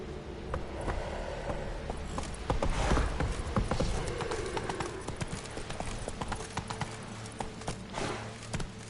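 Hooves of a horse clip-clop in The Witcher 3 video game, a brisk rhythmic trot of many steps with a louder burst midway, over soft ambient background sound.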